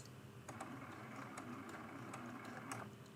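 A sewing machine stitches a leaf appliqué onto a quilted mug rug, its needle clicking out a steady run of small, even stitches close by with a faint motor hum underneath.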